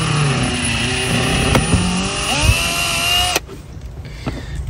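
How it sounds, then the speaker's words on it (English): A power drill bores slowly through the body of a Toyota Prado 150 Series to make a cable hole, a loud steady whirring grind that runs for about three seconds, then stops abruptly, leaving quieter rattling. "And just drilling slow again."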